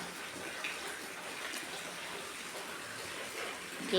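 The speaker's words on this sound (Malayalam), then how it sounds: "വെള്ളം വളവളാ വീഴുന്നുണ്ട് ഗൈസ്. എവിടെ നിന്നാണെന്നറിയാമോ? പുഴയുടെ മണ്ടയിൽ നിന്ന്, ടെറസിൽ നിന്ന് അഴുക്ക് വെള്ളം ഇറങ്ങി വരുന്നുണ്ടോ?" Heavy runoff pours steadily down from a house terrace, a continuous broadband rush of falling water, fairly loud and unbroken throughout.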